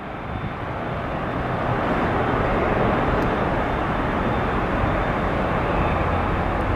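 A Hanyang Airlines passenger jet airliner passes an airport spotting spot in Seattle, bound for Beijing, a broad loud engine roar that swells and holds steady throughout, with no talk.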